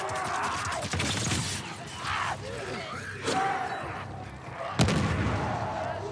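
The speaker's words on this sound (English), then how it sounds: "Spam grenades and hope for the best" Several loud explosive bursts from grenades in The Last of Us, with heavy booms around the one-, two-, three- and five-second marks over a constant rumbling game din and no talk.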